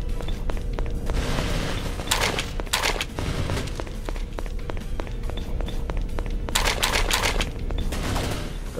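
Gunfire in the GoldenEye Source video game: rapid, repeated crisp shots in bursts, mixed with quick footsteps, steady and fairly loud throughout.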